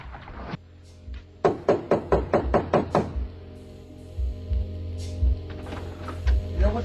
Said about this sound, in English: Oh, fine. I can stand here knocking all day.